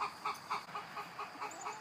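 Chickens in a compost system cluck repeatedly in short, regular bursts that carry at moderate distance, with a faint honk-like call mixed in.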